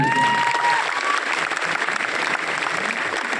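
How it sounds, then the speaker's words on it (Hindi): Loud, dense applause from a seated hall audience at a company leadership event, steady and sustained across the whole stretch with a few faint whistles near the start. "मैं चाहूंगा बड़े भैया के लिए एक बार जोरदार ताली।"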